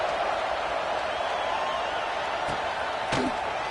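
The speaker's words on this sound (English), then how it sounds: "They're set to kick it off, and this crowd now ready to get behind them." Stadium crowd noise in College Football 26 before a kickoff, a steady dense roar and murmur throughout, with a couple of brief sharp thuds near the end.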